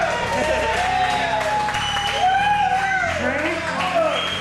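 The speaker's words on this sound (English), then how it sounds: "Applause is for him" Audience applause at a comedy show, steady dense clapping with some cheering, mixed under music and voices throughout.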